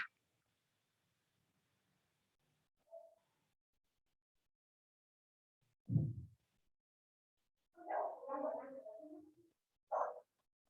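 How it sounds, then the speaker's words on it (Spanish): A small dog barks a few times in short, separate bursts close by, with long quiet gaps between the barks. "tengo un perrito que ladra un montón"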